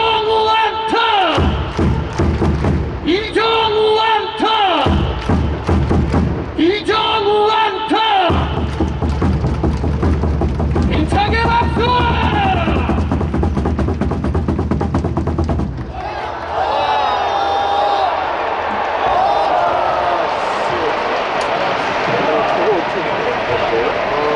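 A Korean professional baseball crowd at a Kiwoom Heroes game claps and cheers in loud rhythmic bursts over amplified music, then settles into sustained crowd noise while an announcer speaks over the stands.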